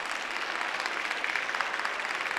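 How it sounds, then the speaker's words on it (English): Russian fans at a wushu world championship men's taijijian event give steady, dense applause, a continuous patter of many hands clapping heard from within the arena. "still getting an applause from the Russian fans, as you'd expect"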